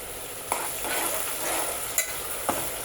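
Chopped onions and curry leaves fry in hot oil for a fish curry, a steady broadband sizzle with a few sharp stirring clinks of a spoon against the pan.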